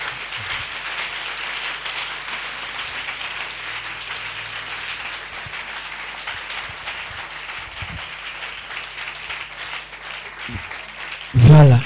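A church congregation applauding continuously, a broad, steady wash of clapping that lasts throughout and ends with a sudden loud knock.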